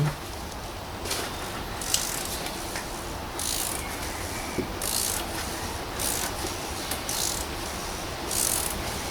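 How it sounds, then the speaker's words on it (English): Ratchet with a 32mm socket and extension clicking as it undoes the oil filter on a VW Passat, a close, fairly faint and irregular series of metallic ratcheting bursts. "So I'm gonna be using a 32mm socket, just with the extension there, to undo this filter here."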